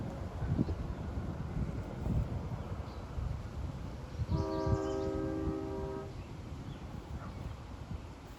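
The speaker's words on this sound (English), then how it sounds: "Approaching the Mill Pond Road crossing is train 658" A Long Island Rail Road train on the Port Jefferson Branch approaches the Mill Pond Road crossing, sounding a clear multi-tone horn for a couple of seconds over distant rumble and wind noise on the microphone.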